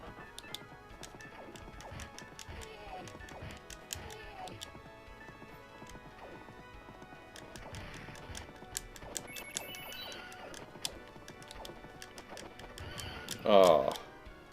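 Horses from the Knights of the Round arcade beat 'em up, with hoof clip-clops and neighs scattered among game music and effects, ending in a brief loud crash near the close.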